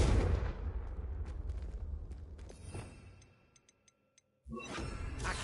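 A Confringo blasting spell explodes in a Harry Potter video game with a loud, booming burst that rumbles and fades. A few faint ticks follow, then a second sharp blast erupts near the end.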